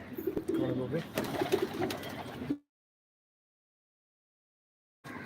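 Pigeons in a loft in Malerkotla, a few low coos mixed with faint rustling for about two seconds before the sound cuts out to silence.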